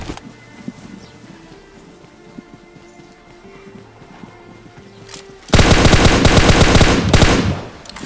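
Gunfire from a battle royale mobile game: after several seconds of quiet ambient game sounds, a loud, rapid burst of automatic fire erupts for about two seconds, then tapers off.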